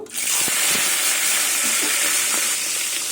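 Fish heads frying in hot oil give off a steady, loud sizzling hiss that starts abruptly and holds evenly, with a few soft pops and spatters breaking through.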